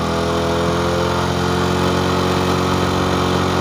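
A running engine being adjusted for mileage with a multimeter hums steadily and loudly throughout, a constant close-up drone with no clear revving or breaks.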